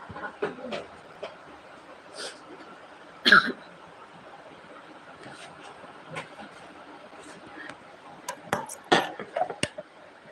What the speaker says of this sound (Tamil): லைவ் போடும்போது உட்காரும் போது தான் இருமல் ஸ்டார்டிங் ஆயிடுது